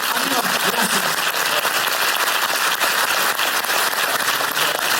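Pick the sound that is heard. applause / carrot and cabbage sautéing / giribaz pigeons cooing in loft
applause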